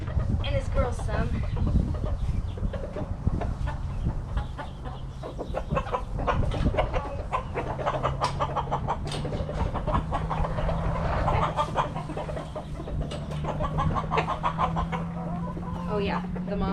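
Backyard chickens clucking and fussing while pecking at food, a busy flock of short close clucks with a low steady hum underneath and a voice speaking over them.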